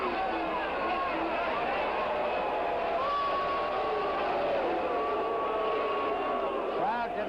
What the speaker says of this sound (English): Crowd didn't like Terrell's holding and hitting there.